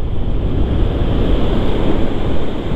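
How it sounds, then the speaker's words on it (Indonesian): Strong ocean surf rolls in at Echo Beach, Canggu, Bali, as a constant loud, deep roar of breaking waves. Heavy wind buffets the microphone throughout, and nobody speaks. "lagi ombaknya lagi kencang teman ya"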